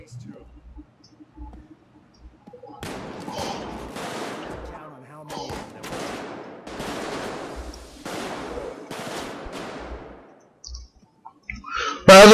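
Bursts of shotgun fire from the Payday 2 video game, several sharp blasts in a loose series with brief gaps, heard close and fairly loud amid game noise.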